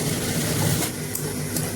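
A sewing machine runs steadily while stitching along the straight edge of a shirt, a continuous close mechanical whir with no pauses.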